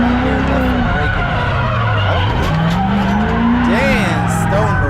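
Race cars skid and squeal their tires through a corner, one driver dragging the left front tire under braking, with engines droning loud and continuous beneath a commentator's voice.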